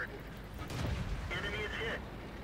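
A tank cannon fires with a deep, rumbling boom in the video game World of Tanks, a single loud blast partly under a player's speech.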